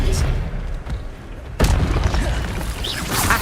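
A spell-casting burst from the Hogwarts Legacy video game, an Expelliarmus disarming spell: a sharp booming blast that flares up suddenly midway and then rings out over dense, continuous game-battle noise and effects.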